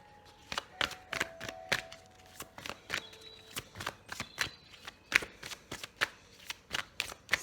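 Tarot cards being shuffled close up in quick rhythmic riffles, each burst of flicking repeating steadily with brief pauses, no voices.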